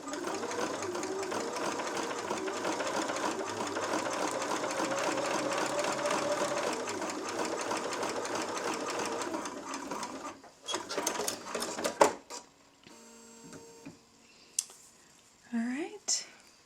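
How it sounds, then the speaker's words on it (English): An embroidery sewing machine top stitches along the edge of a pot holder, running in a steady, rapid mechanical hum for about ten seconds before stopping, followed by scattered clicks and handling noises. "So then you take it to the machine and you're going to top stitch along this long edge."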